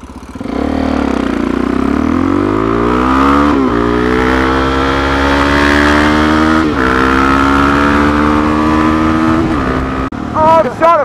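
A motorcycle engine fitted with a refurbished stainless steel exhaust runs loud and close, its pitch rising steadily as it revs, then settling briefly before a final blip and cutoff near the end.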